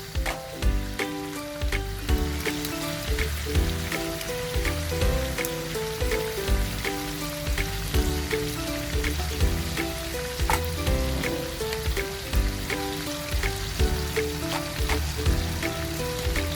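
Beef caldereta with tomato sauce simmers and sizzles in a pot, a dense continuous bubbling crackle with rhythmic stirring clinks over its length, close and steady, with a tonal background layer and no talk.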